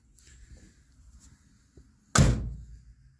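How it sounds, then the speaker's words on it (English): The door of a Chevelle, its edge freshly adjusted, shuts with a single solid thunk after a couple of seconds of quiet handling noise, then rings down briefly. "Door actually shuts better somehow"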